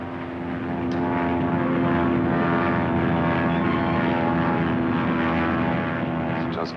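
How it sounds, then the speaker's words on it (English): A Navy propeller plane drones steadily overhead, a loud continuous engine hum that swells slightly and holds for several seconds without voices. "It's just possible that that's a Navy plane"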